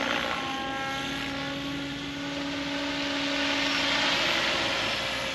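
An XL Power Nimbus 550 RC helicopter flies nearby with a loud, continuous whining drone whose pitch and level waver slightly but never stop.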